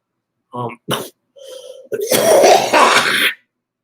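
A few short rough coughs from a person with COPD, then a longer harsh burst of coughing and throat clearing, close and loud, with no talking.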